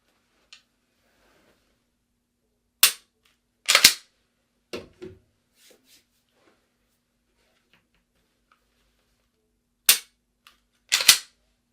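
Pistol shots crack out sharply in an otherwise quiet space: a lone shot, a quick pair, a softer cluster, then another pair after a long pause, each loud and abrupt with a brief decay.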